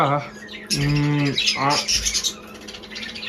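Pet cockatiels squawk loudly and harshly close by, a few raucous calls in quick succession, with a voice briefly at the start.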